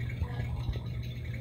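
A coffee maker running, giving a faint, continuous low hum with soft bubbling, gurgling liquid noise and no speech.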